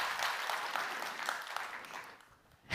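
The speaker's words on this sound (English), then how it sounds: "please give a warm round of applause to Miriam SUZANNE." Conference audience at SmashingConf New York applauding a speaker as she takes the stage, a dense, sustained crowd clapping that fades out near the end.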